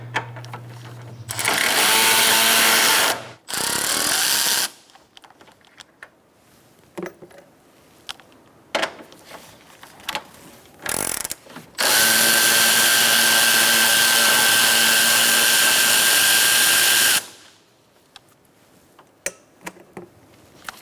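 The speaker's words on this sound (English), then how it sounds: "Using a 10mm socket, we're going to take out these 2 bolts." A power tool with a 10mm socket removes two bolts during a cooling fan assembly replacement on a 2014-2019 Kia Soul 1.6L L4, in two loud whirring bursts, the second much longer, separated by clinks and handling noises.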